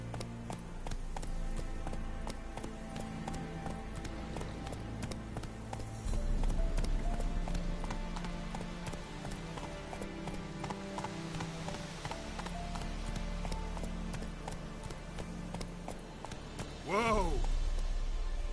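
Horse galloping in The Witcher 3 video game, rhythmic hoofbeats under music and game sounds, with brief voice and a short whinny-like cry near the end.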